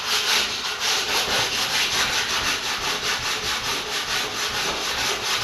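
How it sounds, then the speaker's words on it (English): Sandpaper worked over wooden planking sheeted onto an airplane, steady back-and-forth rubbing strokes in a close, even rhythm. "when you start sanding these out, you'll see some highs and lows"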